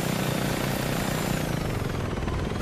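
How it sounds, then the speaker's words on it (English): A helicopter in the video game Saints Row 2 drones steadily at close range, a dense rotor and engine roar holding constant throughout with no talk over it. "Helicopter, go the way I'm asking you to go, please."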